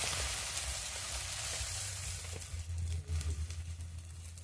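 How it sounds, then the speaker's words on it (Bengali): Batter frying on low heat in a pan, giving a steady soft sizzle throughout with a few louder crackling bursts toward the end. "হালকা আঁচে এগুলোকে ভেজে নেব"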